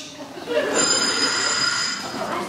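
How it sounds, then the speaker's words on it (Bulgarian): A doorbell rings in a Bulgarian radio play, a steady high electronic ring lasting over a second, heard alongside the play's ambient background. "Звъни се."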